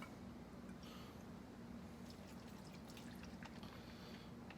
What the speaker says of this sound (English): Pour your 2 ounces of triple sec.